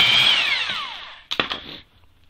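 A power tool on a BMW E46 323i wheel removes old lug nuts: a high whine winds steadily down in pitch, then after a short pause come a few sharp, close knocks and clicks.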